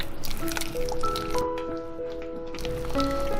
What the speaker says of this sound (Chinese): 然后再打入2个鸡蛋，再继续搅拌。